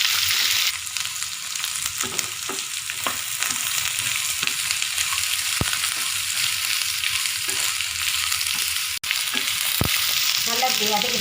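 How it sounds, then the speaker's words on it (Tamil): Beetroot sautéing in a pan, a steady close sizzle of frying with soft stirring scrapes and occasional clinks, continuous throughout with no voices. "நல்லா பீட்ரூட்டை ஒரு 5 நிமிஷம் வதக்கலாம்."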